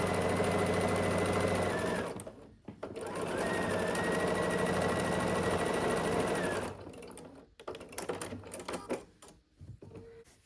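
A sewing machine stitches quilt block pieces, the mast joined to the sail, in two sustained whirring bursts with a rapid needle rhythm, separated by a brief pause, then stopping for quieter handling clicks and rustles at the end.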